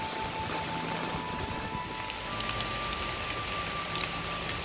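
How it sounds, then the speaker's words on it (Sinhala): Light rain falls outdoors in a steady, faint patter with a soft wash of wind, and no one speaks. "දැන්නම් පොඩි වැස්සක් එන්න වගේ"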